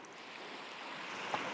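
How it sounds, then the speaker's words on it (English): Ocean waves roll and wash in a continuous broad hiss near the microphone, steady throughout with a slight surge toward the end and no talking. "the waves are getting a little bigger here"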